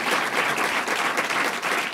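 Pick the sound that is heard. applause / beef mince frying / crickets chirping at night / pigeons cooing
applause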